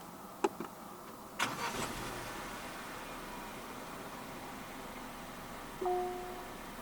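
A Jaecoo J7 1.6 turbo AWD starts by push button: soft clicks, then a quick crank and the engine catches and settles into a low, quiet idle, with a brief chime later on.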